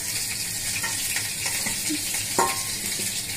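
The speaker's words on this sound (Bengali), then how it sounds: "আমার আপুনি মানে এখন পিৎজা রান্না করতেছে বানাচ্ছে" Pizza cooking in a pan in a home kitchen, a steady hissing sizzle with occasional scrapes and light clinks of a utensil against the pan, heard close and without talk.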